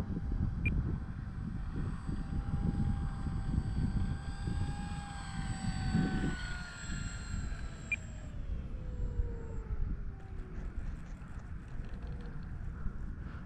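A Dynam Focke-Wulf 190 foam RC model warplane, rudder recently repaired, passes overhead and comes in to land on a windy day, its electric motor whine steady and fairly close and sliding down in pitch, over constant wind rumble.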